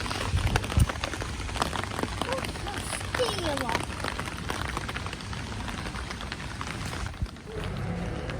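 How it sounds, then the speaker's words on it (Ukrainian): A public fountain runs at full flow on a rainy summer street in Germany, a steady close wash of splashing water and rain patter throughout, with no talk over it. "Фонтан працює, до речі, що мене здивувало. Наповну, під дощем."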